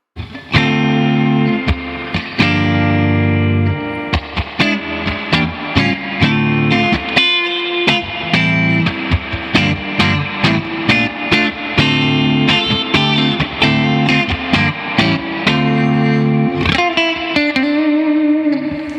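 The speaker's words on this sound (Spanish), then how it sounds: "Y voy a poner la reverb siempre a tope." Electric guitar played through a Fender Hot Rod Deluxe amp with its reverb turned fully up, loud distorted chords and picked notes ringing into a long, washy tail, played alone without talk.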